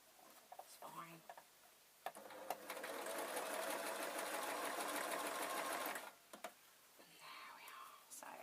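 A sewing machine stitching a travel pillow runs steadily and fairly loudly for about four seconds, framed by short bursts, ticks and handling noises, with a soft voice before and after.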